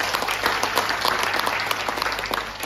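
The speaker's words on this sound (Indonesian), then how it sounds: "Berikan tepuk tangan dong" Audience applause at a property sales talk: dense, steady clapping from a crowd filling the room, sustained and fairly loud throughout without a break.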